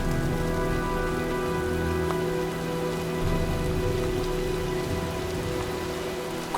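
Steady rain in the video game Heavy Rain patters continuously across a surface, with a constant low hum of background tones running underneath.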